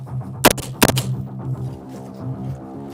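Two sharp assault rifle shots crack close by at a shooting range, a fraction of a second apart, over a low steady hum.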